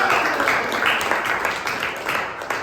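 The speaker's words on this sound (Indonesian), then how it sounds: "tepuk tangan dulu dong buat kalian" A class claps together in a steady, fairly loud burst of applause, with a few brighter individual claps and faint voices mixed in.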